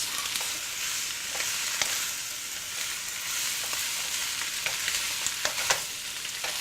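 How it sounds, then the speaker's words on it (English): Mixed vegetables with bean curd for Malaysian chai choy sizzle in a hot pan, a steady close hiss broken by light scraping and stirring clicks, with no talking. "you can fry it for about 5 minutes"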